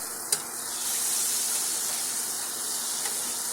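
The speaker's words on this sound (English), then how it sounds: "I got some butter in the pan. Gonna melt the butter." Butter melts in a pan for a roux for turkey wing gravy, a soft even sizzle and hiss that holds steady after a brief clink, close and alone.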